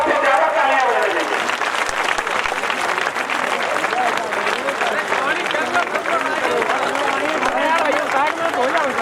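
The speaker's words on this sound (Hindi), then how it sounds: "जोरदार तालियां से बजना चाहिए।" A rally crowd at the Kaumudi Mahotsav in Sankisa claims loud, continuous applause to welcome a guest, with voices shouting and talking under the dense clapping.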